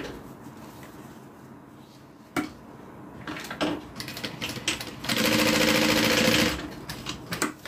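A sewing machine top stitches the green lining of a fabric change purse in a steady, close whirring run, preceded by short clicks and brief stitching bursts.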